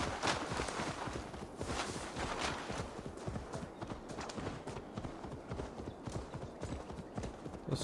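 A fast-moving mount's hooves clip-clop in a rapid, even rhythm throughout in Assassin's Creed Valhalla, fairly close and continuous, with no speech over them.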